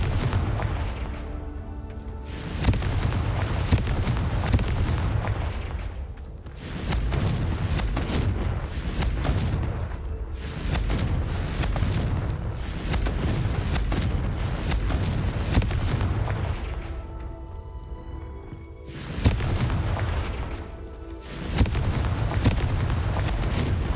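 Repeated heavy blasts from Confringo fire spells in Hogwarts Legacy on Xbox Series X, loud booming bursts with dips between them, layered over steady game score and rumble.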